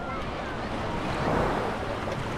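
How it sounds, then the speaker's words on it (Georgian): Sea waves wash steadily onto a shallow sandy beach at Ayia Napa, a continuous broad surf roar with wind buffeting the microphone and no clear breaks or voices. "ახლა ზღვაზე და ძალიან კარგი ზღვა"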